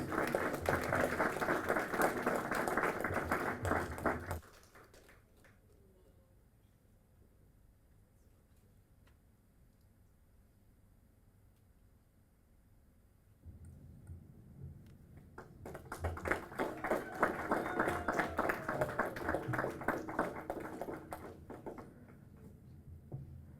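Graduates at a Texila American University graduation ceremony in Dubai break into two bursts of hall applause, a few seconds of clapping, then a long near-silent gap, then a second, louder swell of many hands.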